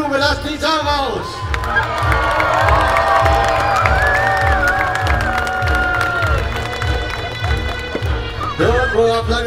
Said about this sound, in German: Applaus und Jubel, lasst die Sau raus!